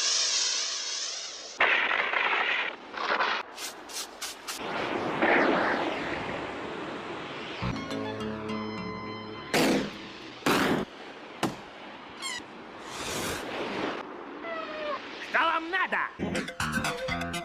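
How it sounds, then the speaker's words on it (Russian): Several sharp booming blasts of a ship's cannon ring out amid a busy, noisy mix of splashing and talk, each bang standing out loudly against the background. "Они заряжают пушку. Зачем? А, они будут стрелять."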